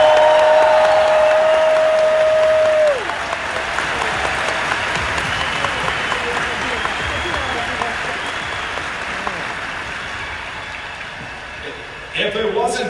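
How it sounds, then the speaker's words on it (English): Large convention crowd at Star Wars Celebration Chicago 2019 applauding loudly and steadily for about twelve seconds, with a whistle near the start and a brief burst of renewed clapping at the end. "can we get a big applause for my mentor,"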